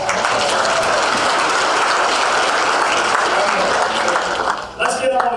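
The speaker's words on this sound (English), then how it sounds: "Let's give him a round of applause." Round of applause from an audience at a Splunk Live conference in Atlanta, a steady, loud burst of many hands clapping that dips and fades near the end.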